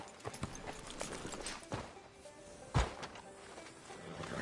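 Horse hooves clip-clop in a Western town in the video game Red Dead Redemption 2, a steady walking rhythm of moderate, fairly close hoof falls with one heavier thud partway through.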